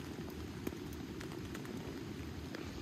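Rain patters steadily on a tent vestibule at a backpacking camp in a forest, a dense, even hiss with scattered sharper drops, continuous and fairly close with no voices.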